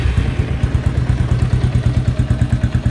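Restored 1955 Maico Blizzard motorcycle with a 200cc four-stroke engine running nearby, a steady, rapid thumping exhaust beat with mechanical clatter, loud and even throughout with no talking.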